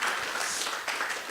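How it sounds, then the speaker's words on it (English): Brief, fairly faint audience applause at a talks event: a dense wash of clapping hands from a crowd, steady throughout with no voices on top. "give yourself a big round of applause"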